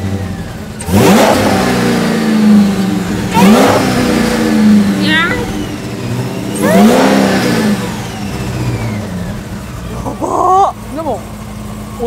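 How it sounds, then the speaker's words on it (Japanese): A race car engine from a roughly 1000-horsepower era of Nissan and Toyota racing revs hard in repeated rising and falling blips over a rough idle. Voices are faintly audible under the engine. "もう一回ちょっとエンジン聞かせていただき ます"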